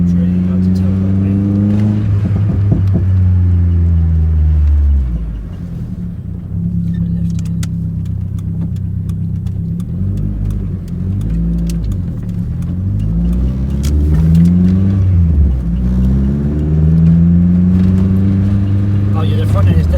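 A Metro car's engine drones steadily from inside the cabin on a road test after suspension upgrades, rising and falling with gear changes and acceleration, while someone talks over it.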